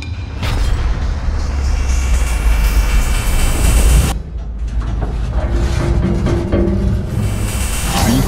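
An electric Ford F-150 pickup strains while pulling a train, giving a loud, steady mechanical roar with a rising whine. The roar cuts abruptly midway, then resumes more unevenly, with no voices.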